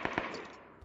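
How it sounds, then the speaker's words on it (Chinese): Suppressed UMP45 submachine gun in a video game letting off a brief burst of a few rapid muffled shots, faint and alone. "那是消音的 UMP45"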